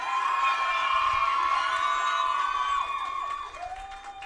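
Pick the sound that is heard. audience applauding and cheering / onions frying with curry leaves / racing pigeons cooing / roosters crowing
audience applauding and cheering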